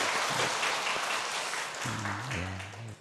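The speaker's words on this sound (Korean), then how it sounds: "우리 박수 한번 하시도록 하겠습니다" Congregation in a church applauding together, a dense patter of clapping that fades as a voice begins to speak over the tail end.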